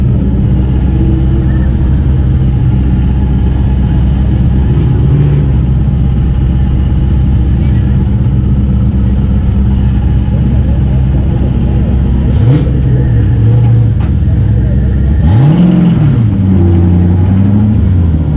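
A drag race car engine roars steadily and loudly at the Klutch Kickers 100K series, with rumbling revs that rise and swell near the end. The engine stays close and continuous throughout.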